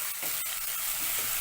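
Turmeric is stirred into tomatoes and pigeon peas frying in ghee, a steady close sizzle with a few soft scraping strokes of the spoon and no talking.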